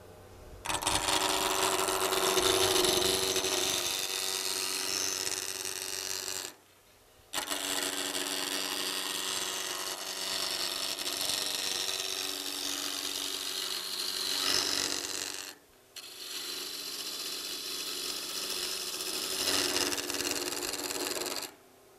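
A wood lathe taking a roughing cut with the tool riding the bevel: a steady loud scraping, whirring cut that runs in three long passes split by brief pauses.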